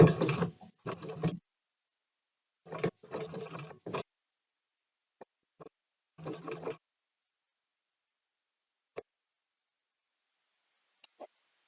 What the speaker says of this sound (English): I'm going to begin my top stitching at 1/8 of an inch from this seam